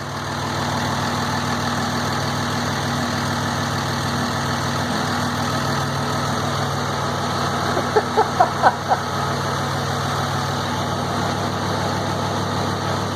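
Diesel engine fitted with common rail injectors idling steadily, a continuous low rumble with a brief cluster of four sharp knocks or revs partway through, no talk.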